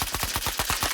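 A pistol in S.T.A.L.K.E.R. 2 fires a fast run of about eight evenly spaced shots in under a second. The shots are clear and moderately loud.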